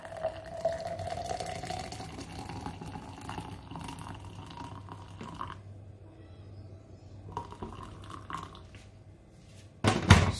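Hot boiled water trickles and splashes into a cup in a steady pour, fading briefly before a louder splash near the end.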